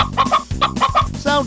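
Chickens of the Plymouth Rock, Rhode Island and New Hampshire breeds cluck close by in a quick run of loud, throaty notes over about a second and a half.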